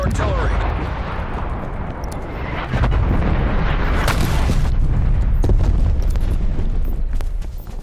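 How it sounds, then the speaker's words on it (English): Artillery shells exploding in Call of Duty: Black Ops Cold War on the Miami map, a steady roar of overlapping booms and blasts with sharp impacts that intensify midway and stay loud throughout. "Hostile artillery targeting active. Net call. Incoming artillery."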